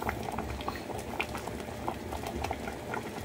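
A pot of mung bean soup bubbles at a steady, close rolling boil, with soft popping and gurgling and nothing else heard.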